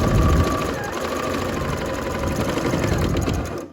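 A sewing machine stitches stretch cuffs onto the sleeves of a hoodie, a steady close mechanical whirr running continuously at an even pace with no voices.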